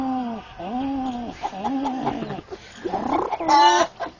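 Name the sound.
man imitating a pigeon's call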